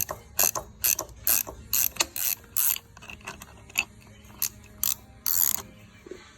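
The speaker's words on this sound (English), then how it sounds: "So you're gonna keep cranking, it'll eventually push that pin through." A wrench cranks a chain breaker to push a pin out of the chain on a Yamaha FZ-07 motorcycle, giving a series of close, sharp ratcheting clicks in irregular bursts with quiet pauses between them.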